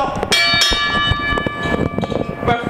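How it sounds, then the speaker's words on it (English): A wrestling ring bell rung at a CZW Dojo Wars match, sounding as a series of bright metallic rings amid crowd noise and a busy arena din, with no clear pause between strikes. "Ring the bell!"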